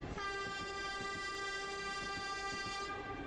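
A train on the Rishikesh to Karnaprayag rail route, a line running through tunnels, sounds a long, loud, steady horn over the rumble and rhythmic clatter of its wheels.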